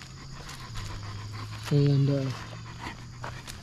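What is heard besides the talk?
Great Pyrenees guard dogs panting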